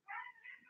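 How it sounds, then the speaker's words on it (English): A house cat meows indoors while wanting to be let outside: a single short, fairly quiet drawn-out meow with a slight second rise, heard alone at close range. "my cat wants to go outside. If you guys hear a roar in the background,"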